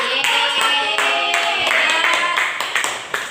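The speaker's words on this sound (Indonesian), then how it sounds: "Oke, tepuk tangan." Students in a classroom clap together after a group presentation, a loud, close burst of hand claps with distinct rhythmic strikes that continues for a few seconds.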